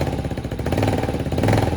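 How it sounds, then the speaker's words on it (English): Venom X22GT 250cc water-cooled automatic motorcycle engine, a close, throbbing mid-pitched putter with a gentle throttle rise, short and steady. "Just wanted to give you a quick little sound. But this is it, the 250 automatic."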